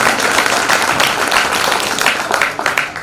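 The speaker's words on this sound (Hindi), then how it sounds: "एक बार जोरदार ताली अपने सम्मान में" Loud, sustained audience applause at a Hindi poetry recital, dense continuous clapping from a large crowd with no break.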